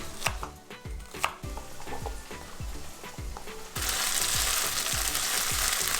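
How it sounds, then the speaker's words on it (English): Okra frying in a pan for a Gujarati okra and potato curry, a continuous sizzle beneath a regular rhythm of knife chops on a board, the sizzle swelling louder midway. "While the okra is frying,"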